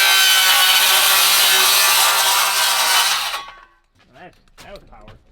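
A cordless power saw cuts wood for chimney framing at a cabin, making a loud, steady, rasping whine for about three seconds before it stops, followed by brief talk.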